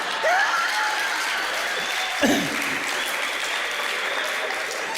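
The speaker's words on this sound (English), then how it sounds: "the applause, the applause came so quick" Quick, dense applause from a large audience fills the clip with steady clapping, and a brief whoop or shout rises out of the crowd partway through.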